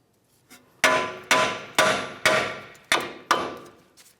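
Six sharp metallic hammer blows strike the tie rod end on a Ford Flex steering knuckle at a steady pace, each ringing briefly before the next, with a faint tap beforehand.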